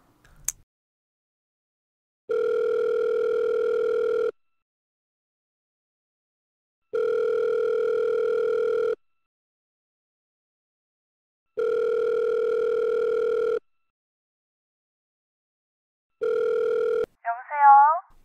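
A telephone call rings out: a short dialing blip opens, then four evenly spaced two-second ringback tones sound clearly against silence, and a voice answers at the end.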